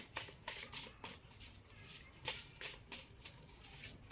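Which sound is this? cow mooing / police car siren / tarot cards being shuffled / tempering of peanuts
tarot cards being shuffled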